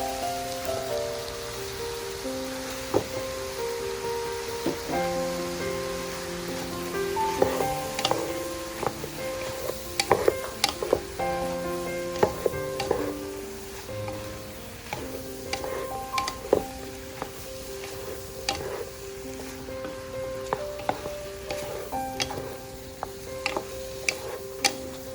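Tomatoes dropped into a hot pan for spaghetti and meatballs, giving a steady close crackle and patter of sizzling like rain on a surface, with scattered sharp ticks and clinks, and no talking.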